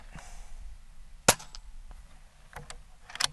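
Shots from an Air Venturi Avenger .22 calibre air rifle being fired through a magazine: one sharp, loud crack stands out, followed by a few fainter pops spaced irregularly over a quiet background.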